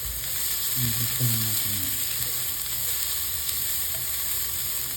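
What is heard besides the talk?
onions sizzling as they fry in a pan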